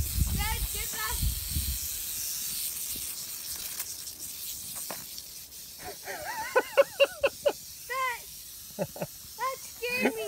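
A rattlesnake strikes toward a parked bike outdoors, its dry buzzing rattle and hiss coming in bursts close by, mixed with excited voices and children talking over the commotion.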